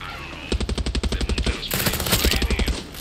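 Rapid automatic gunfire in the Far Cry 6 video game: a fast, evenly spaced burst of loud shots, then a brief pause and a second denser volley of overlapping fire, close and sharp with no speech.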